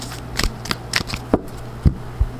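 A deck of oracle cards is shuffled during a tarot-style reading: a string of soft, crisp riffling and tapping bursts, close and fairly quiet, with no voices.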